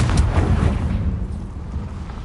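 Confringo fire-blast spell cast in the video game Hogwarts Legacy: a loud, rumbling explosive burst with a sharp opening crack, heavy low boom rolling on and slowly fading over a couple of seconds.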